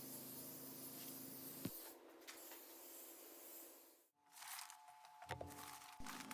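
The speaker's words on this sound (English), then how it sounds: "spray the canvas top with Scotchgard waterproofing spray" An aerosol can of Scotchgard waterproofing spray hisses in short bursts onto a boat's canvas top, close and steady, with brief pauses and a few light handling clicks between sprays.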